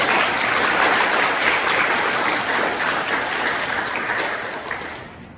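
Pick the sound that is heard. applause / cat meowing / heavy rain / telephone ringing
applause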